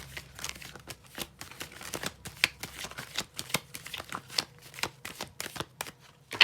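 Tarot cards being shuffled by hand, a steady run of quick, crisp riffling and slapping bursts repeating close up, with no talk over them.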